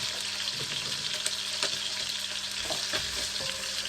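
Garlic sizzling in hot oil, continuous loud frying hiss with scattered crackles and spatter pops, heard close up and alone.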